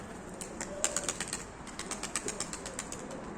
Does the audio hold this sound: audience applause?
no